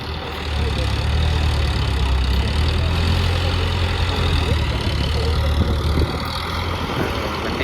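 A boat engine labors steadily while hauling a sunken fishing boat ashore, a loud, continuous low drone that holds for about seven seconds before easing slightly, with background noise around it.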